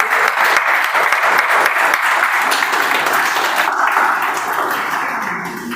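An audience at a Toastmasters club milestone meeting claps in a close, lively round of applause that gradually softens toward the end.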